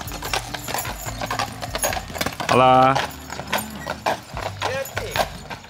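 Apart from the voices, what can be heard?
horses running, hooves clip-clopping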